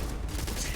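Automatic turret fire in the video game Starfield, a short burst of rapid, loud shots forming a dense fusillade under a steady game soundscape.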